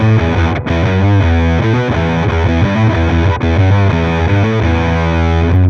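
Heavily distorted fuzz guitar played through an Overloud TH-U Darkface 65 amp model, a thick sustained riff of chords and notes running loud and continuous with brief gaps, no voices.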